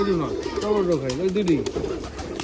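Giribaz pigeons kept at a home loft coo in warbling, rising-and-falling phrases close by, repeated several times, while a voice talks over and after the calls.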